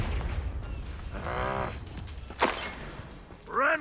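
Confringo fire spell in Hogwarts Legacy on Xbox Series X: a whooshing magical charge followed by a sharp, bright blast with a crackling burst, loud and close against quieter game ambience.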